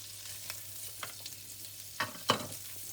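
Prawns and carrots fry in melted butter in a pan, a faint, soft sizzle broken by a few scraping stirs and two sharper spattering bursts near the end.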